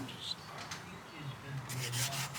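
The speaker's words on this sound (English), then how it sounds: "I'm wet sanding with 400" Soft, close rubbing and scraping of 400-grit wet sandpaper over primer on a 1957 Chevy Bel Air dash in short back-and-forth strokes, quiet and without talking.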